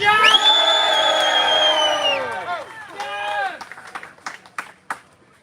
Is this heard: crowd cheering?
yes